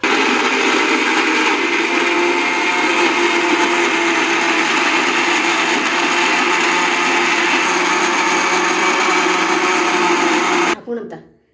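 A mixer grinder blends coconut and tomato pieces with a loud, steady whine that holds constant for about eleven seconds, then cuts off abruptly and winds down to silence.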